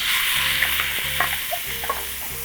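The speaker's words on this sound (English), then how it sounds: "I want to hear that beef as soon as it hits the pan." Fatty beef sizzles in a very hot pan, a loud, steady frying hiss with spatters and crackles while the meat is stirred and spread, and no talking.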